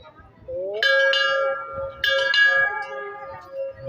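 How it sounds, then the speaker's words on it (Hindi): Large temple bell hung at a Shiva temple gate, struck twice: each bright metallic clang rings out with a long sustained tone and shimmering overtones, fairly close, with faint background voices. "घंटा बजाते हैं।"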